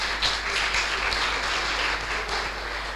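Audience applause for a competing team at the final of a Ukrainian youth financial-literacy quiz tournament, steady broadband clapping that holds at an even level for the full few seconds with no voices on top.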